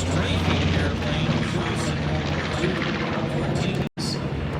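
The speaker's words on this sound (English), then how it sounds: "Now bringing it around, B-25 became the strafing airplane" A B-25 bomber flies past at a Marine Corps air show, its piston engines a loud, continuous rumbling drone, heard under an announcer's commentary.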